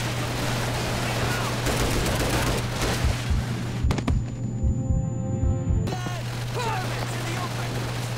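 Rapid machine gun fire bursts in the Call of Duty 3 World War II campaign, loud and continuous with repeated sharp cracks, mixed with battlefield noise and soldiers shouting over it.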